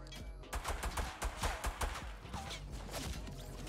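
Rapid bursts of gunfire in Fortnite Battle Royale, a rattling run of repeated shots over roughly two seconds, fairly close and loud, with game noise continuing beneath and tapering off.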